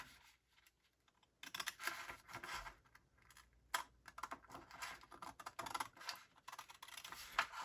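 Quiet crisp snipping and rustling of scissors cutting out a paper flag, close up, in irregular bursts with short pauses between cuts.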